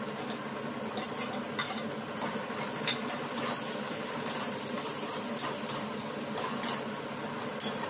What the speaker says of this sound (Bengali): ভালো করে আমি ভাজবো